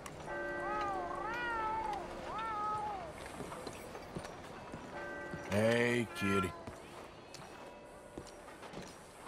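A cat meows several times in clear, drawn-out rising and falling cries up close, with a louder burst of meows midway and quiet room noise between them.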